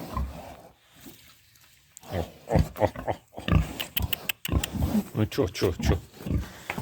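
Domestic pigs grunt and snort close by in short, rough bursts, mixed with a person speaking.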